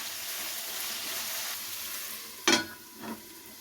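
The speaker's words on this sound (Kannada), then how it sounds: "ಇವಾಗ ಎಲ್ಲ ನೀಟಾಗಿ ಒಂದು ಸಲ ಮಿಕ್ಸ್ ಮಾಡ್ತಾಯಿದ್ದೀನಿ." Vegetables fry in oil for fried rice, giving a steady low sizzle. A couple of sharp scrapes and clanks from mixing come late, close by and fairly quiet, with no talking.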